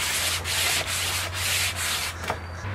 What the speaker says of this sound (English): I like to take a block with 1/4 inch round on it and just put some sandpaper on it